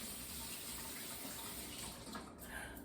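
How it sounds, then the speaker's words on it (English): A kitchen tap runs steadily, rinsing a peeled hard-boiled egg for deviled eggs; a soft, even stream of water heard faintly and alone. "You want to rinse this off after you get the eggshell off to get any remaining eggshell off"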